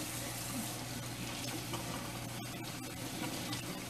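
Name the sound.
hot water running from a tap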